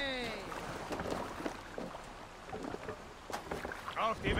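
A Viking longship is rowed along a river in Assassin's Creed Valhalla, with rhythmic oar splashes and creaking wood over wind and water, plus brief game voices shouting.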